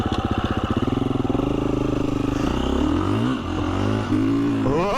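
A KTM off-road motorcycle chugs along a green lane in a higher gear, its engine thumping loud and close in a steady low pulse that smooths out and shifts pitch as the revs change.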